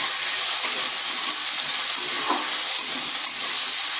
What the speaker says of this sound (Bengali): আলুটাকে হালকা ভেজে নেব।